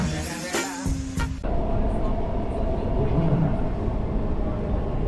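A metro train runs at a metro station, giving a steady, loud, close rumble with a faint hum over it, after a brief scrape of handling noise at the start.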